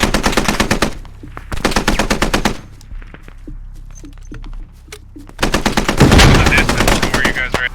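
Loud machine-gun bursts in the tactical military shooter Squad, with long rapid strings of automatic fire separated by quieter stretches of scattered distant shots and voices speaking.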